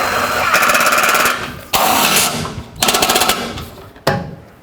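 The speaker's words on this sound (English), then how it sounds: "now we just have to tighten up these side bolts on each of these brackets here" A power tool on the side bolts of the A/C condenser brackets of a 2007-2010 Chrysler Sebring gives loud, close impact hammering in several rapid bursts with brief gaps between them.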